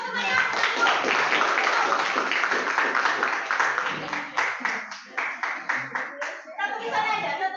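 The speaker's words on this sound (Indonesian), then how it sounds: "Beri tepuk tangan dulu buat semuanya." Schoolchildren in a classroom clap for everyone, first as steady applause and then as a string of distinct rhythmic claps that end in a short burst, with talk mixed in.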